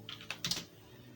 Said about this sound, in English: usually I just type in what I'm looking for